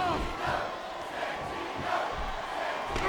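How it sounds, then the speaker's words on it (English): Arena crowd noise in the Smackdown vs Raw 2010 wrestling video game, a dense, rolling murmur of cheers that swells and dips over a few seconds. "I see they cheering for Santino."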